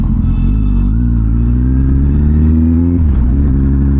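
Loud, close roar of a Kawasaki Z800 inline-four motorcycle engine climbing in pitch under acceleration, then dropping sharply as the revs fall.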